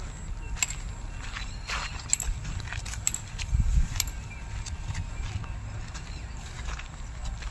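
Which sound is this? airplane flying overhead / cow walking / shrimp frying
cow walking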